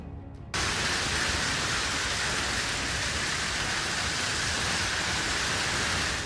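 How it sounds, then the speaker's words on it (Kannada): Heavy rain with hail pounds down in Bengaluru, a dense, loud, unbroken roar of drops hitting surfaces that begins abruptly after a brief quiet moment and holds steady throughout, with no voices. "ಅಪರೂಪದ ಆಲಿಕಲ್ಲು ಮಳೆ ನಗರದ ಜನರಿಗೆ ಅಚ್ಚರಿಯನ್ನ ಮೂಡಿಸಿತ್ತು"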